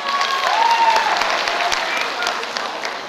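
Audience applause at a school freshmen's ball contest, a burst of dense clapping with a few cheers and voices mixed in, tapering off gradually.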